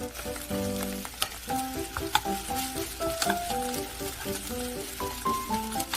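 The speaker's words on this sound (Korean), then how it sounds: "밥한 공기 넣고 고루고루 섞어서 볶아요." Garlic fried rice with a bowl of rice stirred and fried in a pan, giving a steady sizzle with scraping stir strokes, while melodic background music plays over it throughout.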